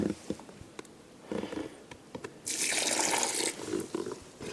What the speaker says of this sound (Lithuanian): tai įpilam biškėlį telkinio vandens.